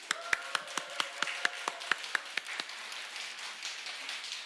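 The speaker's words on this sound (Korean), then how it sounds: "박수." Congregation at a Korean church Sunday service clapping after reciting the Ten Commandments, a quick run of sharp distinct claps that thins out into a softer patter and room noise.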